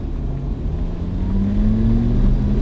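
A Lamborghini Gallardo accelerates on a race track, its engine a loud, close, continuous drone whose pitch climbs steadily as it builds speed.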